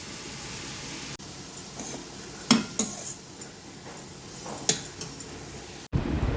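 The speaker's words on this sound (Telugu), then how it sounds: "ఉల్లిపాయలు గోల్డెన్ బ్రౌన్ కలర్లోకి వచ్చే వరకు కలుపుతూ వేగించుకోవాలి." Onions, green chilli and curry leaves frying in a pan while being stirred until golden brown, a soft steady sizzle broken by several sharp scrapes and clinks of a spoon against the pan, with no talking.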